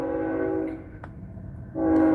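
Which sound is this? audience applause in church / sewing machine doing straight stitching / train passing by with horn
train passing by with horn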